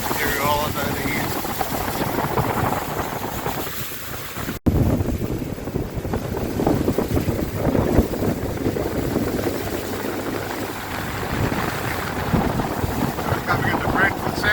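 Frewza F14 boat cruising along Doubtful Sound fiord in Fiordland, a steady engine and hull-on-water rumble with strong wind buffeting the microphone, continuous and close throughout.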